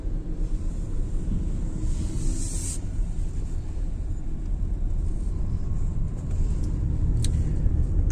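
Steady car traffic in Accra, Ghana, a continuous close rumble of engines and road noise with a brief brighter passing swell, no talk.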